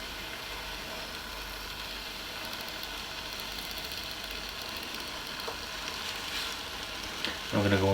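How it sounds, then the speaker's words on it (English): Steady, loud sizzling and crackling of streaky bacon frying in a Ninja air fryer, continuous throughout with no talking, a brief clunk near the end. "you should start to hear it sizzle in a sec"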